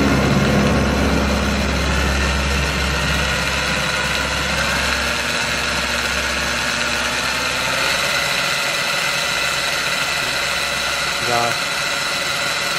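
An electric motor drives the visai differential of a DIY electric jeep, a steady mid-pitched whir and hum running throughout, with a person talking over it.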